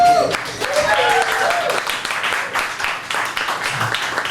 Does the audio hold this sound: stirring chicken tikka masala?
no